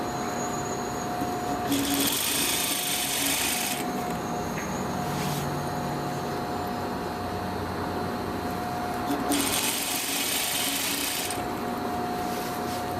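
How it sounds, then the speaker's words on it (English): A sewing machine stitches fabric for an infinity scarf, running in two fairly loud bursts of steady whirring with quieter handling between them. "So be careful while you're stitching it."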